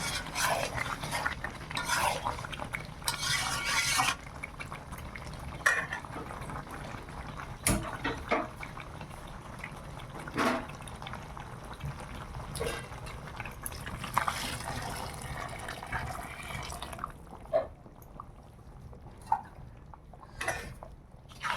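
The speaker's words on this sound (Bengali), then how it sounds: "তো মাংস থেকে তেল ছেড়ে গেছে, এইবার জলটা দিই।" Hot water is poured into a pot of meat curry in a village home kitchen. Soft splashing and pouring come in bursts with occasional sharp metallic clinks and stirring, at a fairly quiet level.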